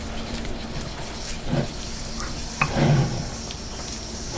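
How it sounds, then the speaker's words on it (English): A spoon stirs a holiday appetizer mixture in a bowl, a soft continuous scraping with a couple of louder clinks against the bowl, heard close without talk. "You're going to want to mix this up well."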